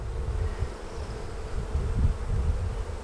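Honey bees buzz steadily on a hive frame during a queen search, a dense, continuous low drone of many insects close by, with no talking.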